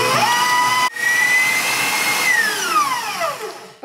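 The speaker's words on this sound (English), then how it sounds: "Now I'm gonna turn it up to high and whisk it for about 2 minutes or so" An electric mixer on high speed whisks cake batter with a steady whine that climbs in pitch, dips briefly, then holds before sliding down as it slows. There is no talk.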